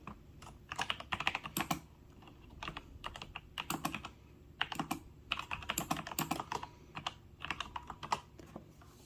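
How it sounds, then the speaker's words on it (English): Typing on an Alpha Freewrite keyboard, a steady run of close, crisp key clicks in irregular bursts with brief pauses, no voices. "I don't look at my Freewrite hardly at all when I'm typing anyway"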